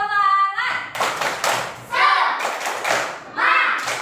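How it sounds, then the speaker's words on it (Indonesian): A classroom of children does a rhythmic spirit clap, a series of sharp group claps and thumps in a patterned beat, with voices chanting along between the claps. "kita tepuk semangat dulu"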